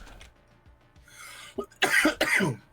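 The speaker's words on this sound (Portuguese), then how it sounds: "eu tô com uma tosse alérgica" A couple of harsh, close allergic coughs burst out after a quiet start with faint throat sounds.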